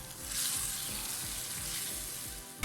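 Chicken frying in a pan on a medium flame, a soft, steady sizzle with faint rhythmic stirring thumps underneath, close but fairly quiet.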